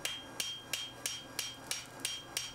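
A hand hammer strikes hot metal on an anvil while forging an axe head, eight sharp ringing blows at an even, unhurried pace, close and clear over a quiet background.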